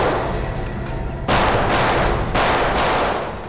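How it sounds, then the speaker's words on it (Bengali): Gunfire in a televised crime-drama shootout: two sharp, loud bursts of shots, each trailing into a dense, crackling wash of sound, with no talking. "গুলির শব্দ"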